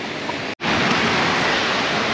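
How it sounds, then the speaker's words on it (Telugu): Water fountains in Kuala Lumpur's Bukit Bintang area rush with a steady, loud broadband splash, briefly cutting out before resuming unchanged. "వాటర్ ఫౌంటైన్స్ ఎంజాయ్ చేయండి."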